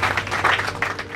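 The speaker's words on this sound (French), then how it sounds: "Un tonnerre d'applaudissements." An audience at a talk claps in a short, fairly loud burst of applause, a dense patter of hands heard close for just over a second.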